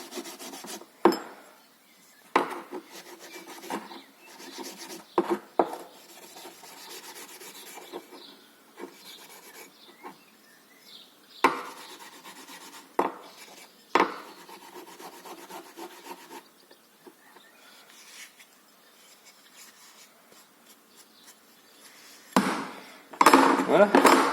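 A hand-forged knife being rubbed to remove sticky oil residue, heard as intermittent rasping and scrubbing strokes with short bursts and pauses between them, close up, with occasional light knocks.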